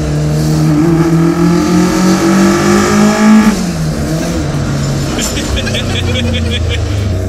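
A Toyota AE86 Trueno with an individual-throttle-body 4AGE engine revs loud and close on a mountain road, its rising pitch climbing through gears before dropping back to a lower drone, with other sounds entering near the end.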